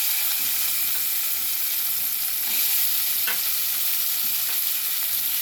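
Drumsticks, green chillies and onions fry in hot oil, a loud, dense, continuous hiss with occasional stirring knocks and no voices.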